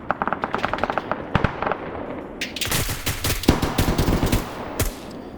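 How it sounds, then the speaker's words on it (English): Gunfire in the military shooter game Arma 3 during a large player-versus-player battle: rapid bursts of automatic fire and single shots crackle loudly, some overlapping in dense volleys, with no talk. "More shots being put in the rear of the formation."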